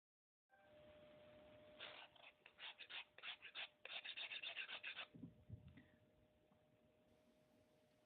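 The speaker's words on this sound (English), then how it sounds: "Firmly hold your gourd and scrape the knife against the surface to scrape the green part off." A dull knife scrapes the green skin off a hard-shell gourd in a quick run of close, rasping strokes, then softer rubbing trails off into quiet.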